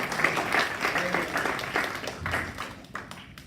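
A church congregation applauds during a sermon, a steady mass of clapping from the crowd heard at moderate distance, lasting a few seconds with a voice faintly over it.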